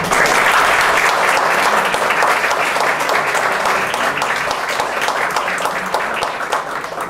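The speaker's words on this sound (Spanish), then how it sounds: "para quien pido un aplauso" Sustained applause from an audience, dense and steady, gradually easing off slightly toward the end.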